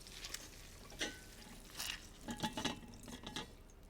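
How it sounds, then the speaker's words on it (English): Cooked, drained kale gets squeezed by hand to press out excess water, giving a few soft, faint wet squelches and drips spaced irregularly in a quiet kitchen, with no talking. "I want to give it a squeeze to get any excess water out."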